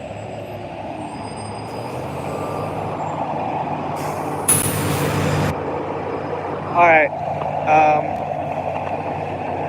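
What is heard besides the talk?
MBTA shuttle diesel bus air brakes and idling engine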